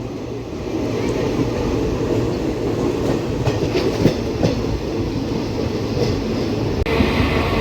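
Tirupati–Lingampalli Narayanadri train passing at a station, a continuous rumbling roll with clicking wheel joints and occasional sharp metallic clanks, fairly close and steady, with no talk.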